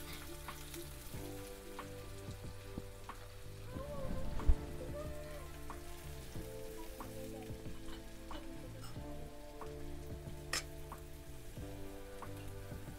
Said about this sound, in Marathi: लसूण पण परतले, आता कांदा टाकून घेते.